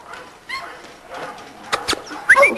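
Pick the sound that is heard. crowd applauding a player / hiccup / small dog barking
small dog barking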